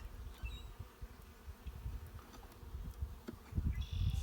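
Honey bees buzz around an open hive in early spring, a faint, steady drone with closer passes and louder buzzing toward the end, with no voices.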